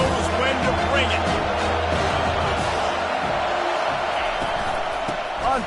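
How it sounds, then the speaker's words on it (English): Stadium crowd noise in a college football video game, a steady loud roar that holds throughout with occasional swells, under a commentator's play-by-play talk. "This crowd knows when to bring it."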